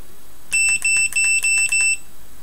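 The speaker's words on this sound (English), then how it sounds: "If you're wondering what the beeping was, it was this meter" A digital multimeter taking voltage readings near a plasma speaker gives a quick series of six or seven loud, high-pitched electronic beeps, evenly spaced and close to the microphone.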